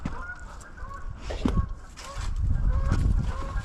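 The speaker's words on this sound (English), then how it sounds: "Those Canadian geese flying overhead." Canada geese honk repeatedly as they fly overhead above a lakeside walk, the calls coming in irregular bursts over wind and outdoor rumble, fairly close and loud.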